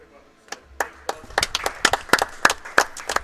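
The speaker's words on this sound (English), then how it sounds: "So a round of applause for everyone." Scattered hand claps grow into a short round of applause from a small crowd at the Perth Open finals, starting sparse and building to denser clapping.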